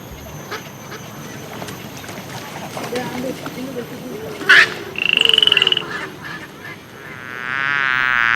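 A short, rapid rattling frog croak rings out midway through steady background noise, followed by a sustained warbling tone near the end.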